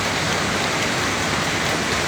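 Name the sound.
heavy rain falling during flooding in Hubei, China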